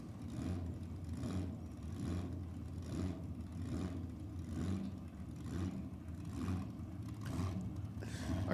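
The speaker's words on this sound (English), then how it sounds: "Like all I can hear is a blown Holden 6." A supercharged Holden six-cylinder drag car at a nostalgia drag race, its engine rumbling low and steady with pulsing revs, heard from a distance and fairly muffled.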